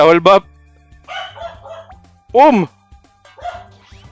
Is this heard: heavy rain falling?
no